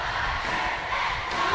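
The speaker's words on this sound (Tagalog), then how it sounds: "hiyawan ng Go NCF and Go UNC. Talagang palitan dito ng cheer." A crowd at a volleyball finals in the NCF covered court cheers for NCF and UNC. The roar is dense, continuous and loud, with chanting voices blending into a steady wall of noise.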